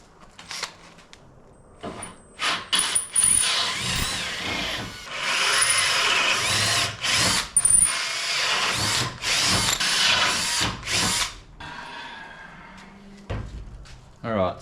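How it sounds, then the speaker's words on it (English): Power drilling of holes in sheet metal with an 11mm drill bit: loud, repeated whining bursts of the drill, broken by short pauses and occasional clunks, close to the listener. "I'm thinking we run an 11mm drill bit through all of these"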